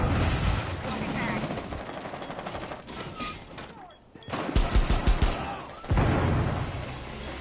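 Bursts of rapid gunfire in Rainbow Six Siege crackle amid scattered impacts, with sharp volleys clustering near the end and players talking in between.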